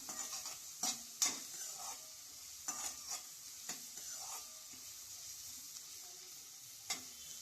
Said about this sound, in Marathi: लसणाचा कच्चा वास जाईपर्यंत आपल्याला फ्राय करायचा आहे लसूण तेलामध्ये।